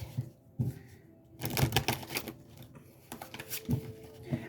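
Tarot cards riffle and flap in quick, soft bursts close up, with a few light taps in between, no speech.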